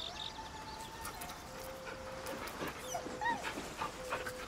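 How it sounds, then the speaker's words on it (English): A dog whimpers and yips softly while being petted in the video game Baldur's Gate 3, with repeated high, wavering whines over a steady background hum. "I'm petting a dog in game instead of petting my own dogs."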